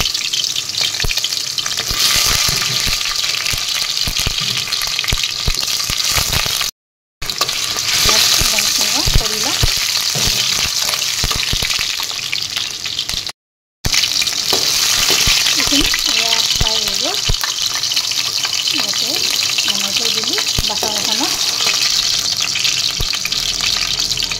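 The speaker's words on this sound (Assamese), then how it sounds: "ইয়াতে এতিয়া মই আলু আৰু পটলখিনি প্ৰথমতে অলপ ফ্ৰাই কৰি লম" Potatoes and pointed gourd fry in hot oil in a wok, a loud continuous sizzle with stirring scrapes throughout and a voice talking at times underneath.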